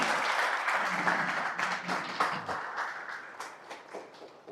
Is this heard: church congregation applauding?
yes